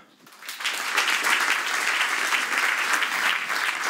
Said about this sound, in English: Let's bring on our debaters with a round of applause.